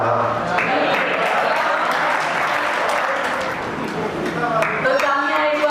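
An audience at the Amar Kala Mahotsav cultural event breaks into sustained applause, steady dense clapping that fills the hall for several seconds, with a voice speaking over it near the start and end.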